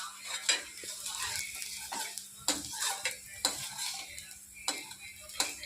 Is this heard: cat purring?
no